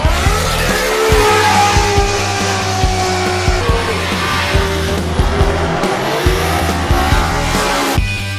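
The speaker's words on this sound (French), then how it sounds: "Et là, vraiment, il y a des caisses de drift." Drift cars skid at the SEMA show, with loud, close tire squeal over roaring, revving engines that rise and fall continuously for several seconds, without speech.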